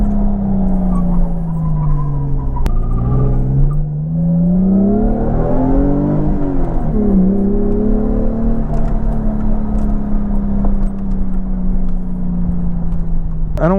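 A car with a welded differential drifts at night, its engine revving up and down in long sweeping surges, loud and close, with a sharp click early on.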